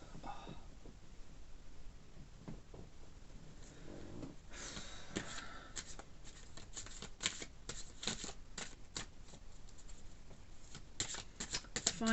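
Tarot cards shuffle in a quiet room, a soft riffling and sliding that starts sparse and builds into steady, close flurries of card-on-card rustle with nobody speaking.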